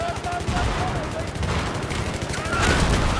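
Rapid gunfire in the Battlefield 3 shooter, co-op play on the Venice Unleashed mod, a dense continuous barrage of shots with bursts of automatic fire filling the whole stretch, loud and busy.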